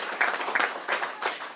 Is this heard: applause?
yes